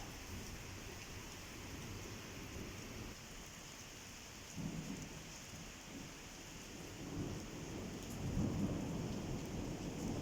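Steady rain hisses down in Antalya during a May storm, with soft low rumbles of thunder rolling in the distance, quiet and continuous with no voices.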